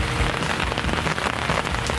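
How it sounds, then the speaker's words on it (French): Heavy rain pouring down at a fishing spot, a dense continuous patter of drops on nearby surfaces, loud and steady with no voices. "il pleut énormément"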